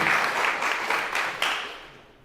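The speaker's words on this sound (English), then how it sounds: "Shall we give them all a round of applause?" An audience claps for conference speakers and performers, a dense wash of applause that swells in short surges and then gradually fades out.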